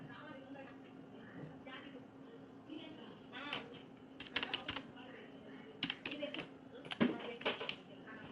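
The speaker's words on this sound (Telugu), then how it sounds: "ఇప్పుడు ఓటీపీ సబ్మిట్ చేసి ఇక్కడ టైప్ చేసి ఇక్కడ సబ్మిట్ మీద క్లిక్ చేయండి" An OTP is typed on a computer keyboard during a pension portal password reset. Soft, quick key clicks come in short bursts over a low, steady background hum.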